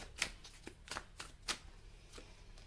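Tarot cards are shuffled and drawn at close range, giving a quiet run of crisp riffling snaps and soft slaps at an uneven rhythm, with no talk.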